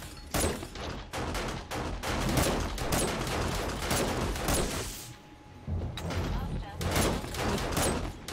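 Automated turrets in 7 Days to Die fire rapid, dense volleys that keep going with a short gap before resuming, while people talk over the shooting.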